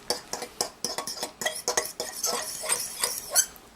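A utensil stirs and clinks against a bowl while Chinese rice wine, soy sauce and cornstarch are mixed into a marinade for pepper steak, with quick, irregular close-up taps and scrapes.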